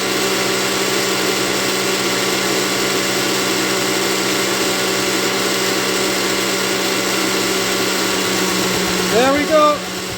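Black and Decker valve refacer with both motors running, a steady close whine and hum as the grinding wheel is fed slowly toward the valve, with a brief rising scrape near the end as the wheel touches.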